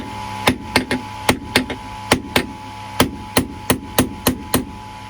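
Sharp hammer blows ring out one after another on a camper van, about fourteen strikes in an uneven rhythm, loud and close, with short pauses between some hits.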